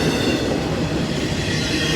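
A CSX intermodal freight train rolls past nearby, a loud, steady roar of wheels and rail noise with a continuous rumble and faint squeal, with no voices.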